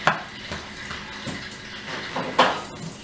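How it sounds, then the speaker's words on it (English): Spoon stirring and mixing a batch of ingredients in a bowl or pan, a series of scraping, clinking strokes at a steady, unhurried rhythm, close and fairly quiet, with no talking. "We're just mixing it up."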